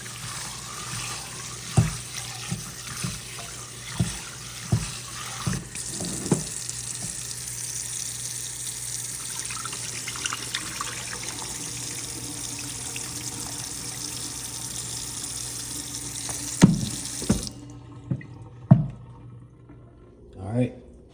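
Sea moss, wet and slimy after soaking, rinsed under a running kitchen tap into a sink: a steady close wash of flowing water with scattered knocks and splashes, the stream cutting off near the end.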